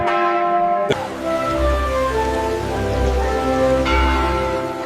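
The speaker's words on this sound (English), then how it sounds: "The church bells ring as they have for centuries, calling people to reflection." Church bells ring out with a sharp strike followed by long, resonant overlapping tones that hum and decay, then another strike near the end.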